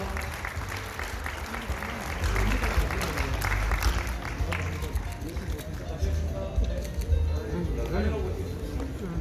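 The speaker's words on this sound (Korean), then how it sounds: "한 번만 더 우리와 같은 박수로 귀한 분들에게 감사의 마음을 전하겠습니다." Applause from a congregation at a church ceremony celebrating a denominational merger, a steady mass of clapping under loud hall reverberation, with voices and low rumbling mixed in.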